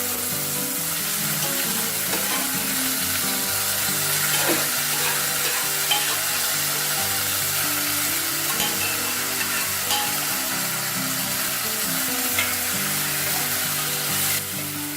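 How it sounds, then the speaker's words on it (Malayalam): Cooked dried tapioca stirred into a sizzling tempering in a pan for a Kerala curry, a loud steady frying hiss with scraping spatula strokes throughout, up close and without talk. "ഇനി നമുക്ക് നേരത്തെ വേവിച്ച് വെച്ച ആ ഒരു കപ്പ ഇതിലിട്ട് ഒന്ന് നന്നായി മിക്സ് ചെയ്തെടുക്കാം."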